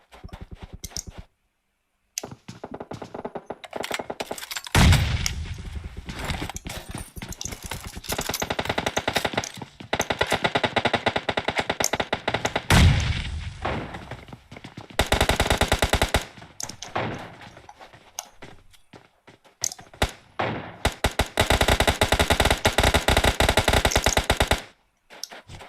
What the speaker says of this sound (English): Yeah, fire coming from all directions here.